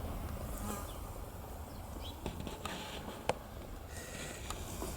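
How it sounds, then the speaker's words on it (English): A tiny bee buzzes outdoors, a thin continuous drone that drifts nearer and farther against a soft background hiss, with a few faint clicks and no talking. "What kind of a little bee is this? It's a tiny little bee."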